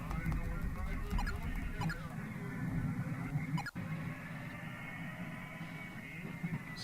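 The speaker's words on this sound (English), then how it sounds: "you can hear something that sounds a lot like a radio in the background" Faint, indistinct radio-like murmur and crackle in the background of the indie game Verge, a low muffled hum with scattered clicks and one sharp snap midway, no clear speech.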